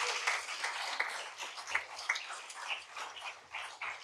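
Audience applause after a poem at an LGBTQ+ literary reading, a steady crackle of many hands clapping with a few cheers, filling the room for a few seconds.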